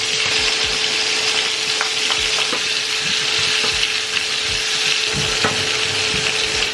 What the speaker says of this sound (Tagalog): kailangan lang natin i-fry yung ating onions